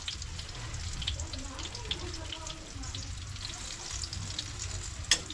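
Eggs frying in cooking oil, a steady close sizzle and crackle with a brief sharp clatter near the end and faint talk in the background.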